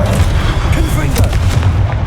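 A fiery Confringo spell explosion in Hogwarts Legacy bursts as a loud, dense roar lasting about two seconds, close and full-bodied, with a faint voice buried in the blast.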